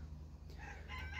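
A rooster crows outdoors on a cold morning near a chicken coop, one faint, distant call that rises in the second half of the short clip over low background rumble.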